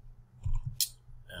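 Quiet computer mouse right-click while working in Canva, a single short sharp click near the middle, close and faint, with a brief low rustle before it.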